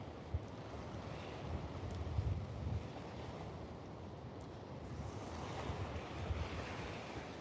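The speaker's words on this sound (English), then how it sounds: "that wind's just blowing through that gap there and it's quite cold" Cold wind blowing at a beach with surf, a steady low rush of wind over the microphone and rolling waves, constant and moderately faint, with no voices.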